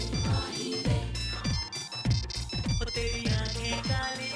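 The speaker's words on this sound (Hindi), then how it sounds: "आपका फोन बज रहा है।" A mobile phone rings with a repeating melodic ringtone, steady and fairly clear across the whole stretch in an indoor drama scene, without any talk over it.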